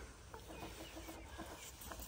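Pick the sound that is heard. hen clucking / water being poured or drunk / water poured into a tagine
hen clucking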